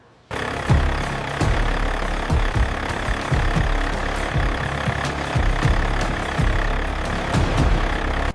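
Heavy truck engine idling with a steady low rumble and rhythmic throbbing pulses, close and loud, running continuously throughout without talk.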